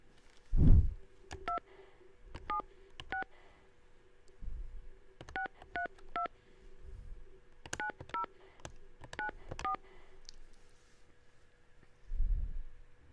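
Telephone keypad tones beep in short separate bursts of two or three, spaced a few seconds apart, with soft thumps and a faint steady hum underneath.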